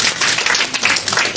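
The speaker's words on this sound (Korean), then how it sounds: "박수 좀 쳐주세요." A lecture audience breaks into dense, loud applause, the rapid claps blending into a steady wash of sound with no talking over it.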